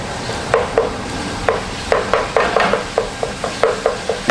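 Chorizo tipped into a soup pot for a chorizo and corn soup and stirred, a steady run of close, sharp clinks and scrapes of a spoon against the pot, over a faint sizzle.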